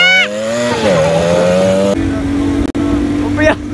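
A motorcycle revs with rising whines and pulls away, its engine droning steadily close by as voices talk over it.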